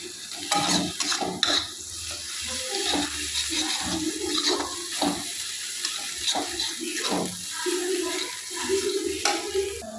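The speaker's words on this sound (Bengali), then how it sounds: "এবার মশলাটা কিন্তু ভালো করে কষিয়ে নেবে" Turmeric, cumin and chili powder paste being stirred and fried in a pan for a pointed gourd and yogurt dish, with irregular scraping and clattering strokes over a steady low sizzle, fairly close.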